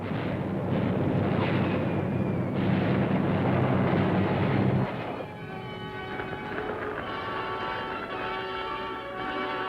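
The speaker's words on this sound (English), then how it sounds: "the enemy answers, jamming up thousands of rounds of flak" Anti-aircraft flak bursting in wartime combat footage, a dense roaring barrage of booms that later thins into a lighter crackling rumble with ringing tones, loud and continuous, no voices.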